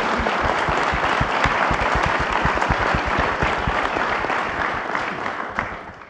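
Audience applause at a K-12 school cybersecurity event honoring FBI agents, a steady sustained clapping from a sizable crowd that holds for several seconds and then begins to fade near the end.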